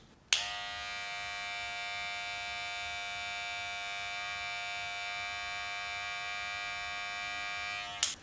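Andis Master cordless hair clippers switch on and run with a steady, close, high-pitched buzzing hum for several seconds, then click off.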